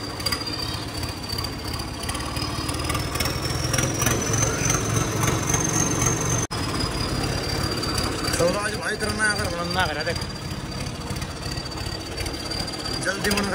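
A Swaraj or New Holland 3630 tractor engine runs steadily at idle in a narrow village lane, a continuous low rumble with a faint whine, while voices talk over it.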